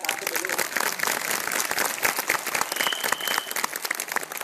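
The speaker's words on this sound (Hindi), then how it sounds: "मैडम अकेले ताली बजा रहे हैं" A lone woman claps at a natural-products seminar, quick sharp claps running steadily beneath someone talking throughout.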